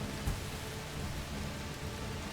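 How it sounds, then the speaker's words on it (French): Steady rain hisses in the video game A Plague Tale: Requiem, a dense, even wash of falling water with no voices and a soft low rumble underneath. "Satané pluie, c'est parfait."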